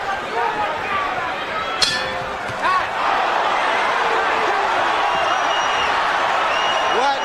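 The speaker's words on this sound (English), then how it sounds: "you hear the crowd start to boo" Arena crowd at a heavyweight Mike Tyson boxing fight breaking into sustained booing, a dense roar that swells and holds, with a couple of sharp clinks early on.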